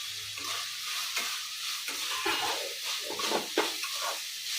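Soya chunks tossed into a hot frying pan and stirred, giving a steady sizzle with repeated scraping and stirring strokes close by, no voices.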